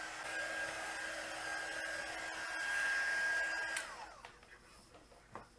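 A hair dryer blows a steady, faint stream of hot air over art journal pages colored with water-based markers and ink, then switches off and winds down, leaving a few light handling sounds.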